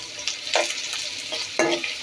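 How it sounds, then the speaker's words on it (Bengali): Prawns frying in oil with tomato and onion for a Bengali prawn korma, a steady close sizzle broken by two sharper bursts of stirring or spoon scraping, with no talking. "আমি এখন চিংড়ি মাছ রান্না করতেছি। চিংড়ি মাছের কোরমা রান্না করতেছি।"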